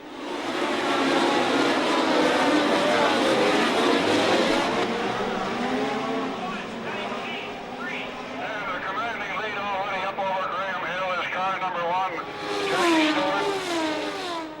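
A pack of 1970 Formula One race cars roaring off the start with Jackie Stewart surging into the lead, loud overlapping engines rising and falling in pitch as they pass, heard under steady commentary.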